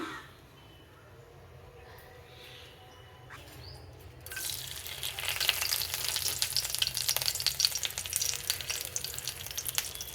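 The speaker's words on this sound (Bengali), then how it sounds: "কড়াটা বসিয়ে দিলাম প্রথমে তেল দিয়ে দিলাম" Oil heating in a kadai turns into a loud, steady frying sizzle about four seconds in, with a quiet stretch before it and the hiss continuing broadly to the end.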